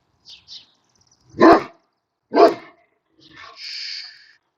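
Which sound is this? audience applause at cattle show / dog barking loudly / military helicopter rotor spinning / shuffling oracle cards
dog barking loudly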